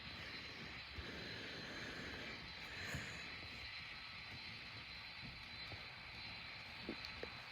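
Airbus A320 jet engines in a flight simulator game, a steady broadband roar with a high whine held at constant level throughout, with no talk.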